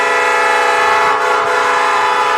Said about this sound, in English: The train horn sounds, and it's a sound of happiness for Ware County right now.